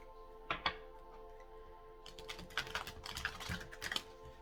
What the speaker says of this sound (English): We have one more shuffle here for you guys